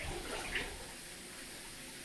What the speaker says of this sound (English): And he got the shower head running.